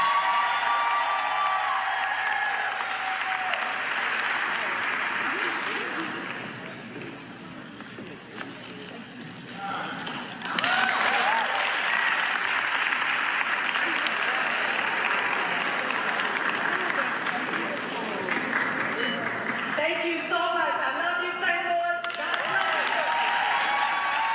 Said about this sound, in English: Everybody clap for her one more time.